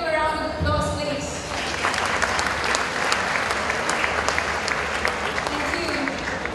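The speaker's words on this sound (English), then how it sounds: "May I request you all to give them a round of applause, please." Sustained applause from an awards ceremony audience, steady dense clapping that fills the whole stretch at an even level, with faint voices mixed in near the start.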